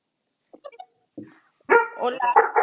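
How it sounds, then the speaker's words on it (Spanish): A few short, sharp dog barks and yips sound close by, followed by a brief burst of louder barking. "te oímos a ti y a A tu Max perrito"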